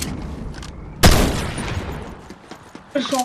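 Gunfire in a battle-royale style video game erupts suddenly as a loud, dense burst of shots close by, then rattles on in a rapid scattered fusillade that fades and spikes again near the end.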